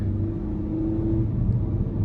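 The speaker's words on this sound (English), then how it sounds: "I'm gonna give it a pull, a slight pull in eco mode. And I'll see kind of how it accelerates." A 2024 Ford Ranger 2.3-liter turbo four-cylinder pickup pulls away from a stop in eco mode, a steady low engine rumble and drone from inside the cab that rises gently and stays even for two seconds.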